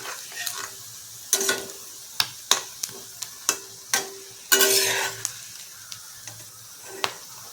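Puffed rice and coconut fritters frying in oil in a wok: bursts of close sizzling with a series of sharp metallic clinks and scrapes from the ladle at irregular intervals.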